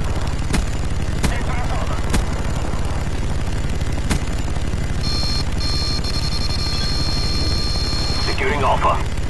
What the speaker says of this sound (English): Friendly Huey inbound.